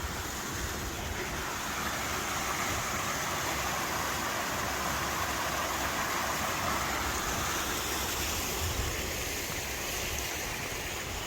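An upper waterfall along the Appalachian Trail pours in a constant, even rush of broadband water noise, close and steady with no voices.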